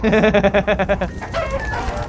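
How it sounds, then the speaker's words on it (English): Giant chickens in the game Minecraft Story Mode cluck loudly and close in a rapid, rhythmic burst of repeated calls that fades into softer squawks. "it appears we are in the land of chickens that are indeed the size of zombies"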